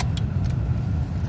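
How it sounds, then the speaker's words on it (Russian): A car being maneuvered into a parking spot, its engine a close low rumble that holds steady throughout, with a few brief light jangles on top like keys. "Машину вот так можно поставить."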